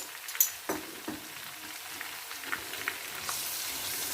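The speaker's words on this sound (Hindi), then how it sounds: "और लहसुन अदरक का पेस्ट वो ऐड कर देंगे। और इसको करेंगे हम अच्छे से मिक्स।" Ginger-garlic paste stirring and frying in a pan with chopped ingredients for matar pulao, a soft steady sizzle with a few brief scraping stirs, fairly quiet and without talk.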